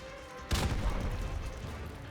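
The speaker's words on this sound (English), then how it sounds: "Those explosions do look very nice, though." A sudden deep boom erupts after a brief quiet moment and rolls into a sustained rumbling crackle of explosions with scattered gunfire, from Call of Duty 4: Modern Warfare Remastered on PC.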